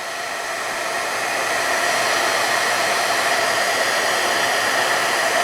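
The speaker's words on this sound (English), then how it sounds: "It's just the heat tool have to warm up." A heat embossing tool blows hot air steadily, a loud close whooshing hiss that holds constant and slightly builds, with no voices over it.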